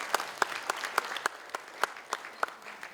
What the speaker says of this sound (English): Can we have a round of applause for all the Twiggy guests on stage?